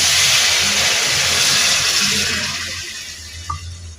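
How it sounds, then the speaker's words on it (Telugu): Loud rush of water poured into a pan of egg curry, strong at first and tapering off over a few seconds, with a small clink near the end. "కొద్దిగా వాటర్ పోసుకోవాలి"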